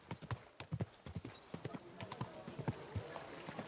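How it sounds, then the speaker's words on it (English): Horse hooves clip-clop in rapid, uneven beats on a dirt road in the medieval game Kingdom Come Deliverance 2, fairly close, while a voice talks over the riding. "Don't you know how to ride a horse?"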